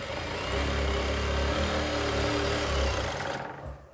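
A foot-operated sewing machine stitching elastic onto pants, a loud, steady, close mechanical drone that runs evenly for several seconds and then cuts off, with no voices.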